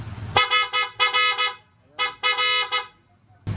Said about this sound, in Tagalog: So mas malakas siyang pakinggan kasi nasa labas yung buga ng busina.